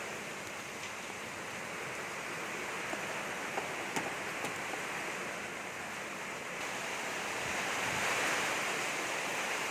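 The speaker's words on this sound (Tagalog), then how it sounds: "malakas pa rin hangin." Strong, steady typhoon wind at night roars across the microphone, a dense rushing noise that swells slightly toward the end, with no voices.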